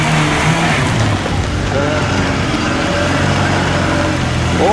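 An off-road car grinds along in first gear, its engine droning loud and unbroken beneath heavy broadband rumble and road noise for the whole stretch.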